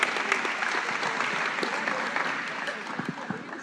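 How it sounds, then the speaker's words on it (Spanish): A gathering applauds a guest named César, dense, fairly loud clapping that sustains evenly throughout with a few sharper individual claps standing out near the end. "Un aplauso para César."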